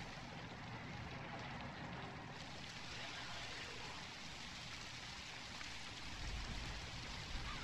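Steady rain in the video game ZombiU, a dense hiss of falling drops on surfaces that thickens after the opening seconds, with a faint low rumble near the end and no voices.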